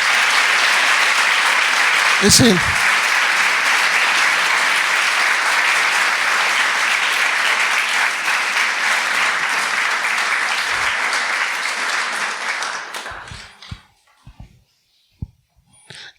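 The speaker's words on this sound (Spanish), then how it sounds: "Denle un aplauso a Él." A church congregation applauds loudly and continuously for about thirteen seconds, a dense wash of clapping that thins and stops abruptly, followed by a few scattered claps and a short spoken phrase.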